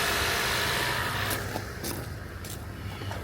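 An Acura car engine runs at a steady idle after being jump-started from a battery pack, a constant low rumble with a few faint clicks and knocks over it.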